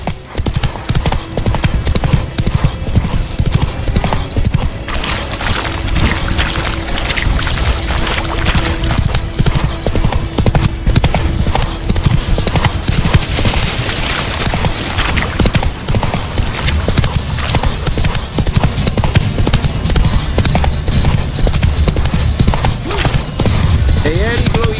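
Roach, the horse in The Witcher 3, gallops with steady, loud clip-clopping hoofbeats that run continuously under game music and occasional brief speech.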